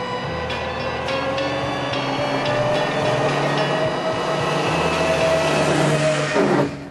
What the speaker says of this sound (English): The gear shift and transmission, unfortunately, aren't so much fun. This is the 4th gear.